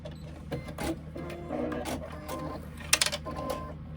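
Sewing machine running a double reverse stitch while sewing pleats, a soft mechanical whirr in short bursts that change direction, ending with a few sharp clicks.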